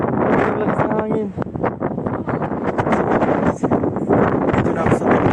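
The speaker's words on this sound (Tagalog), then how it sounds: "Ang lakas ng hangin." Strong wind gusts buffet the microphone atop a 60-metre bell tower in Split, a loud continuous rushing roar with bursts of rumble, while a person talks over it.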